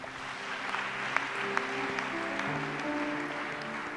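A church congregation applauding during a worship service, a steady, dense wash of clapping with a few sharper claps standing out, sustained throughout.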